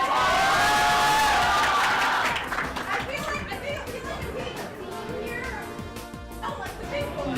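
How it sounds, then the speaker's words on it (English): Crowd at a Mario Kart Winterfest 2018 tournament, a loud burst of cheering and chatter that settles into a steady murmur of many voices, with children's shouts mixed in throughout. "The crowd already getting ready for the game."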